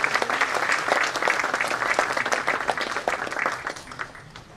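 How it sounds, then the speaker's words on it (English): Audience applauding at a business school accelerator curtain-raiser event, dense steady clapping from a crowd in a hall, gradually thinning toward the end. "Ladies and gentlemen, a round of applause."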